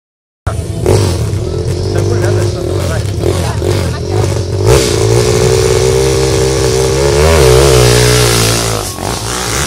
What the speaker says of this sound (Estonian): Aga mootorrattas tahab väga minna